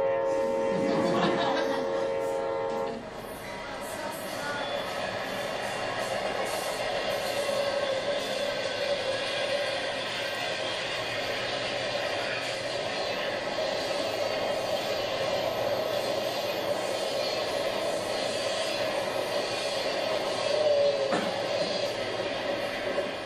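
A conventional (non-maglev) train running steadily, with a continuous mechanical hum and rumble throughout. A voice is briefly heard near the start.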